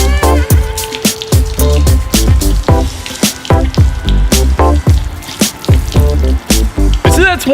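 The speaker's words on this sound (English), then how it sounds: "if you take the nozzle off of the hose and you just run the water on whatever part of the car you want to" Water pours from an open hose with no nozzle over a Ford Mustang, splashing and dripping in uneven, bubbling bursts with sharp plinks, loud and close.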